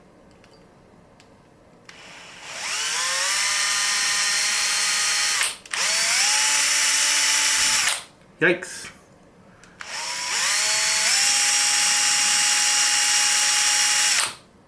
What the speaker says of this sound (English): So I've got this tiny little drill bit. And we're going to try and carefully drill some holes in here.